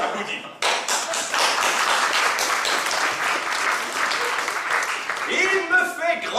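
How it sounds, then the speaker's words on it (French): Festival audience clapping and cheering together, a dense, loud burst of applause that starts abruptly and holds steady, with voices mixed in and a speaking voice near the end. "On s'applaudit."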